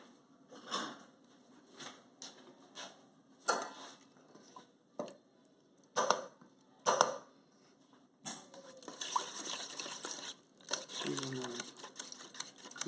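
Whisk beating milk into a chicken pot pie filling in a pot, bursts of rapid clattering scraping against the pot, louder and steadier toward the end, with pauses between strokes.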